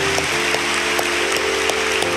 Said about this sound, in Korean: 우리 공동체가 여러분들을 환영한다는 마음으로 뜨겁게 박수로 환영하도록 하겠습니다.